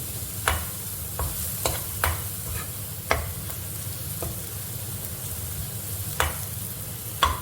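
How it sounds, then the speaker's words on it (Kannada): Scrambled egg is stirred into fried masala in a pan for egg fried rice. A steady low sizzle runs under repeated scraping knocks from the spatula, which come at irregular intervals. "ಮಸಾಲೆ ಫ್ರೈ ಈ ಫ್ರೈ ಆಗಿರೋ ಮಸಾಲೆಗೆ ಬುರ್ಜಿ ಹಾಕಿಬಿಟ್ಟು ಬುರ್ಜಿ ಹಾಕ್ತಾ ಇದ್ದೀನಿ"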